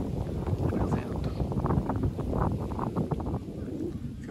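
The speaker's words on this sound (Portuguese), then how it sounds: "Tá, começou a ventar. Olha o vento, ó." Steady wind blowing outdoors in Tataranuma park, a continuous rushing, buffeting roar across the microphone with no pause, heard alone.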